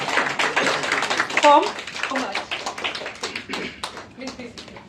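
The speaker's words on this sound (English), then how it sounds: "So we should all stand and clap for him for keeping us together." Gathering at a company's first-anniversary celebration clapping for its founder, uneven close taps and claps that thin out into scattered single claps, with voices mixed in.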